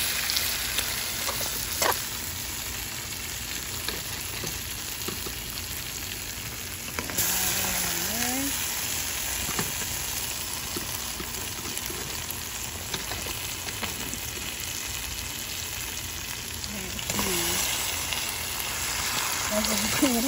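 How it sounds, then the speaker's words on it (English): Armored catfish (cascadoo) fries in a pan for Florida-style curry, giving a steady close sizzle with occasional stirring scrapes, and a voice speaks now and then. "Let's fry it."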